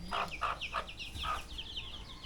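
Chickens cluck in a rural village yard, several short clucks and chirpy calls at moderate distance over a steady background, with no talking.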